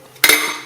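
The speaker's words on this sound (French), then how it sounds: "on met un couvercle mais qu'on pose juste, on le ferme pas, on le laisse juste poser comme ça" A lid is set loosely on a jar of rose or poppy petals steeping in oil, landing with one short ceramic-glass clink followed by a brief ringing decay, close and alone.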